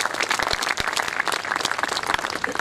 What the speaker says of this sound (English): let's give them a big round of applause for having a job well done.